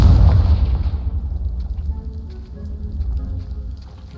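A Confringo blast spell in a video game erupts as a loud, close boom at the start, then fades into a long low rumble with faint crackling debris.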